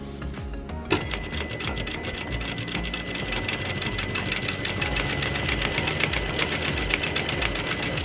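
A domestic sewing machine stitching free-motion quilting with no quilting foot fitted: a steady, rapid mechanical needle clatter running close and continuous, starting after a brief click and holding a fast, even rhythm with no voices.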